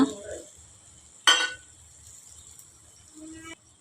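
Okra curry stirred with a spoon in a pan: one sharp metal clank against the pan stands out among faint scraping, over a steady low hum.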